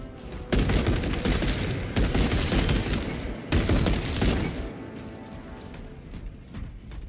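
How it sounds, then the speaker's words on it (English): Tarantula sentry gun firing in the Space Marine video game, loud bursts of rapid automatic fire with a short pause mid-way, continuous and close, tapering into quieter shots toward the end. "Inserting fresh mag activating tarantula sentry gun."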